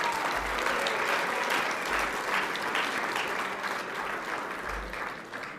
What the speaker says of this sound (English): One last big round of applause for Brody Merrill.